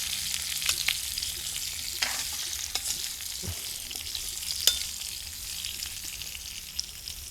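Ingredients for a medicinal soup sizzle in a quick stir fry, a soft steady frying hiss punctuated by occasional scraping stirs and light knocks of a utensil against the pan.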